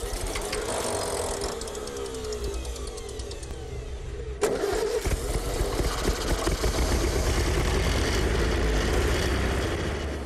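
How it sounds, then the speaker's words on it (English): A restored WWII fire engine cranks and catches, running unevenly at first, then roaring louder and steadier as it settles into a close, continuous mechanical drone. "The engine's working"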